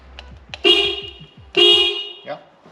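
A car horn, just wired through a newly installed steering wheel, gives two loud, close honks about a second apart, preceded by a few light mechanical clicks.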